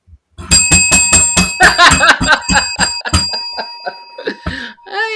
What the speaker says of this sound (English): You can't ring a bell at me.